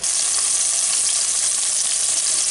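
Steady, dense sizzling of shrimp frying in hot oil, a continuous crackling hiss with no voices.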